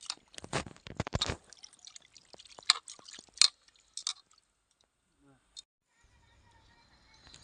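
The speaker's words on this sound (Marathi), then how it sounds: "पाण्यात खालीवरी करून मस्तपैकी असं चिकन धुवून घ्यायचं" Wet squelching and splashing as raw chicken is rubbed and sloshed in water, in irregular bursts that fade to quiet drips near the end.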